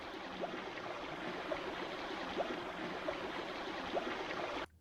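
A clear forest stream in Dzūkija woodland near Merkinė flows in a steady, even wash of water, with faint soft splashes at intervals and no voices, cutting off abruptly at the end.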